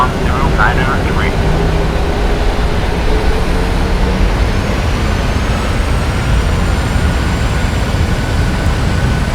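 A jet airliner's engines spool up to takeoff thrust in a Prepar3D flight simulator departure, making a loud, continuous roar with a rising whine that fills the whole stretch.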